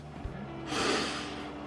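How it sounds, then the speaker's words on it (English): A person takes a short sniff of a glass of cloudy IPA beer, a quiet, close nasal inhale that swells briefly and fades. "let's take a sniff of that"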